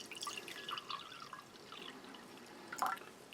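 Water trickles and drips into a spare glass with a light, close splashing patter that swells briefly near the end, quiet and with no voices.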